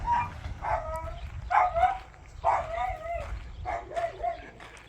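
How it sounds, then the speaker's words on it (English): A dog barks in repeated bursts of several yips and bow-wows, moderately near, beside a vintage cinder-block building in a lonely field near the Kelly Mine ghost town in Magdalena, New Mexico. "Somebody is either happy or sad. Barking, barking, barking."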